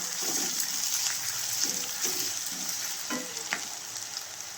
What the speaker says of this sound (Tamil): இப்போ அந்த வெங்காயம் வதங்குது இல்லைங்களா, அதில் இதை போட்டு நல்லா ஃப்ரை பண்ணிக்கலாங்க.